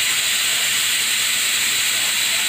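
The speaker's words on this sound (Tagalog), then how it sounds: "Pinasisingawan na lang. Pinalambot ko kasi yung tenga, yung maskara." Pig ears and face mask steaming in a pot for sisig give off a loud, steady hiss that holds without a break.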